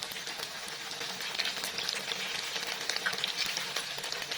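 Battered tempe mendoan frying in hot oil gives a steady, crackling sizzle with fine popping bubbles throughout, moderately close and alone.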